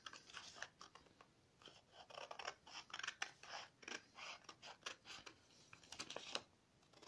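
Scissors snip through paper in quick, irregular cuts, close and fairly quiet.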